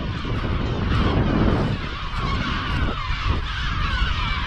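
Geese and other water birds on Bird Island honk and call continuously over a steady bed of outdoor noise, a dense, loud chorus nearby without pause and with no talk.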